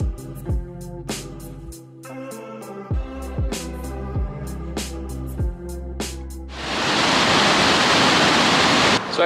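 Water rushing along a roadside stream in Iceland comes in as a loud, steady, close broadband roar during the last few seconds, after a stretch of plucked, tuneful music with no water audible.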